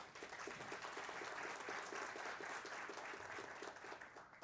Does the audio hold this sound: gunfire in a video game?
no